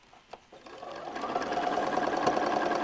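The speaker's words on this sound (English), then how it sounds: "I'm just going to sew onto my fabric tag and part my needle." A sewing machine stitches onto a fabric tag while piecing a quilt block, with a couple of faint clicks first and then a steady, close whirring run that holds level to the end.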